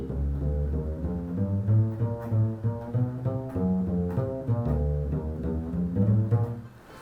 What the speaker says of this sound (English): if you hear it in a jazz band, there might be a walking bass line like this.